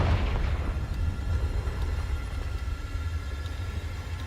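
Confringo blasting spell in Hogwarts Legacy, a loud fiery burst at the start that settles into a sustained low rumbling roar fading slowly over several seconds.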